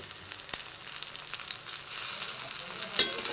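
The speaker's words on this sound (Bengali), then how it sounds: "পেঁয়াজও সুন্দর লতির সাথে একদম ফ্রাই হয়ে গেছে" Onions and taro stolons fry together in a pan, giving a low, even sizzle with a few light scrapes from stirring.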